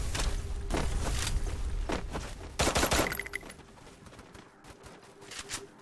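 A Thompson submachine gun fires in Free Fire, loud sustained automatic bursts that continue for a few seconds, then fade into scattered thumps and quieter game sounds.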